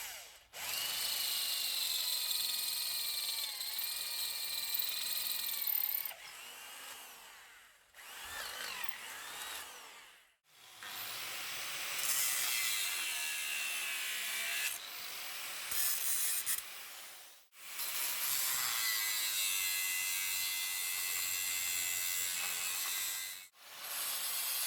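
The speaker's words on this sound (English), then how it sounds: "you can enjoy a little bit of drilling and grinding" Power tools drill and grind in long, loud bursts separated by brief pauses, the high whine shifting in pitch as the tool works.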